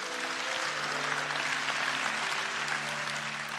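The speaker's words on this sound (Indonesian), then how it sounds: "Berikan tepuk tangan untuk Tuhan Yesus." A church congregation claps together in steady, continuous applause, with sustained tonal music or singing running underneath throughout.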